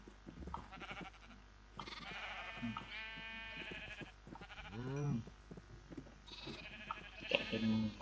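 Sheep bleat repeatedly in the video game Minecraft, several wavering calls spread across the clip, fairly close and clear over a low background of game sounds.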